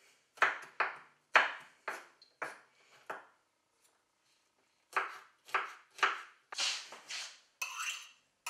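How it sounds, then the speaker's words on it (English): Garlic being chopped with a knife on a cutting board while making spicy chicken soup, a run of quick, crisp close knocks in bursts with a short pause in the middle, no talking. "So I'm chopping up some garlic right now."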